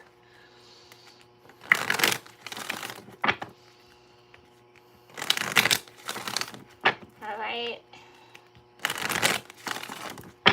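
Crisp bursts of tarot cards being shuffled, three separate riffles with pauses between, close up, with a brief spoken remark in between.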